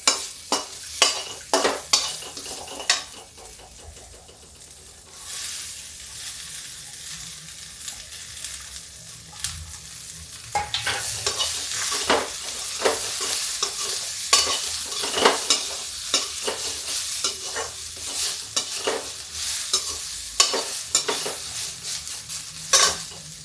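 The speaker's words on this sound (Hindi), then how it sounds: "अब देखिए, हम सब्जियां डालते हैं इसी में।" Vegetables, peas and beans, fry in a pan for pulao with a constant sizzle while a spoon clatters and scrapes against the metal in frequent rapid strokes, close up with no talking.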